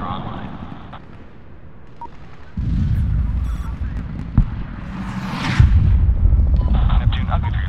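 Hellfire missile launch and explosions in the 2010 Medal of Honor video game, a heavy rumbling blast rising into a sustained roar with sharp impacts and a later booming hit, loud and close, with radio chatter underneath.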